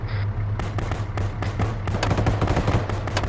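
Rapid machine gun bursts ring out in an infantry video game battle, with repeated loud volleys of gunfire following one another closely over a steady low rumble.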